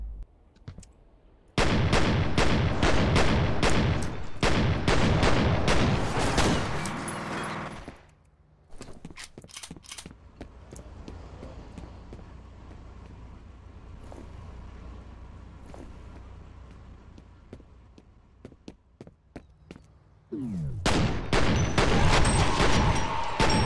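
Dual pistols in F.E.A.R. fire a rapid volley of sharp, loud shots, then stop for a quieter stretch of ambient rumble, before another fast burst of pistol fire near the end.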